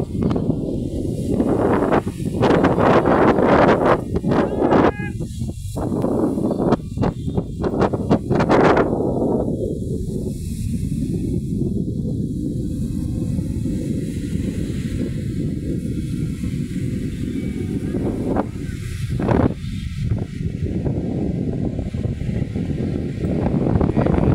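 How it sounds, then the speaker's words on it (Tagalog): Strong wind off Manila Bay buffets the microphone in loud, rough gusts, then settles into a constant low roar of blowing air with occasional sharper bursts. "Kaya mahangin dito guys."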